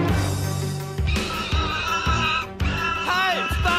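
A horse whinnies loudly, a long rising and falling neigh with a second call near the end, over a steady musical background.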